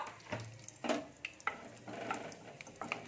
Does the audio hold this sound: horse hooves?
no